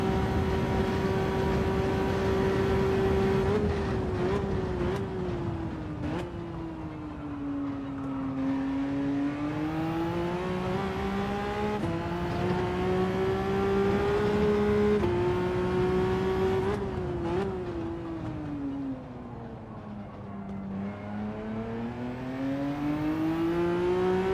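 Race car engine in Gran Turismo 7 revving loud and steady, pitch climbing and dropping through repeated gear changes with brief shift dips, continuous throughout with no talk.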